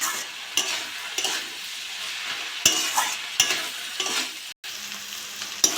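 Sponge gourd (chichinga) frying in a pan is stirred with a spatula: continuous crackling sizzle with repeated scraping strokes and a few sharp knocks, close-up and clear, with no voices.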